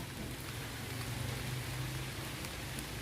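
Steady rain falls outdoors during a Lao traditional festival, a soft, even hiss of drops hitting surfaces that carries on without pause, moderately loud and uniform, with no talking.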